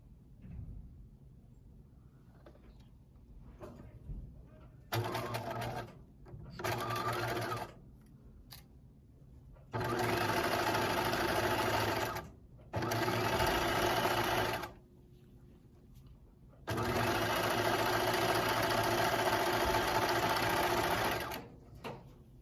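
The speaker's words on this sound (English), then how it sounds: "you're going to sew 5/8 to that circle." Sewing machine stitching a fleece pullover pocket seam, running in several loud, steady bursts of a few seconds each, separated by short quiet pauses.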